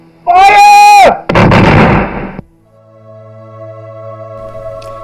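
A firing squad volley in a staged school re-enactment of an execution at Kilmainham jail, one loud sharp report with a harsh rolling tail, after a shouted command, then fading to quiet hum.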